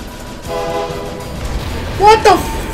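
Train horn from the Sine Mora video game, two loud tonal toots near the end over a steady game rumble, with a person talking through the clip.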